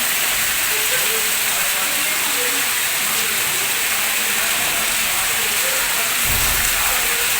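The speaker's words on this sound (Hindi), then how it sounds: "बहुत ही ज़बरदस्त वाली बारिश हो रही है, बहुत ज़्यादा।" Heavy rain roars as a dense, loud, constant hiss, with faint voices murmuring underneath.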